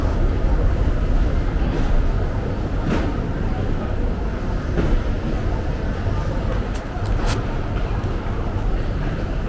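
Steady loud rumble of a Seoul subway train in motion, a dense low roar with occasional metallic clicks and squeals, continuous throughout.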